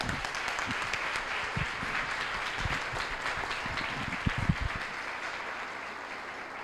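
A church congregation applauds, a steady wash of many hands clapping with a few louder claps standing out, fairly distant, before it thins out near the end.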